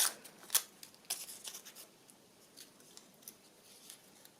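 Scissors snipping through a piece of paper doily for a handmade journal, with a few crisp close cuts and rustles early on, fading into quiet.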